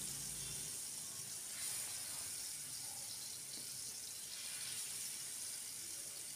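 Masala-coated eggs fry in oil on a dosa pan, a continuous bright sizzling hiss with faint crackles, steady and close throughout, no voices.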